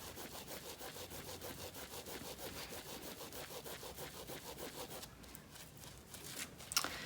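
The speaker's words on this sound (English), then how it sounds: "A good sort of spot rub going along the length of it in exactly the same direction will really help the fibres to start to bond." Wet felt fibres rubbed by hand along their length in one direction make a quick, steady back-and-forth scrubbing rhythm, close and soft, for about five seconds before it eases off and a few light handling noises follow.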